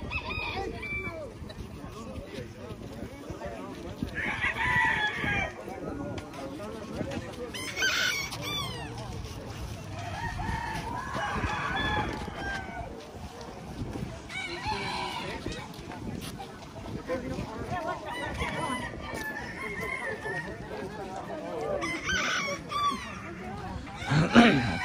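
Roosters crow repeatedly at a bird show in Fresno, California, their calls rising over a busy hall of clucking fowl, with people talking throughout and a dog barking briefly.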